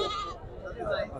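Goats bleat amid a busy livestock market, overlapping calls mixed with a crowd of voices talking nearby, steady and fairly close throughout.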